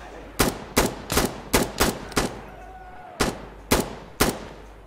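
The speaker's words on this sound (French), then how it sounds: "Ça tire." Gunfire in the tactical shooter Insurgency rings out as nine loud, sharp single shots in an uneven cadence, each with a short echoing tail, and a brief quiet gap falls between the first six and the last three.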